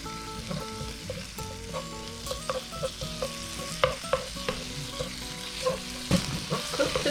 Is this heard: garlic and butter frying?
yes